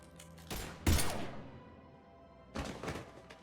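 Gunfire in the Mass Effect video game: two short bursts of loud, rapid shots about two seconds apart, each fading into a low rumble, with no talk.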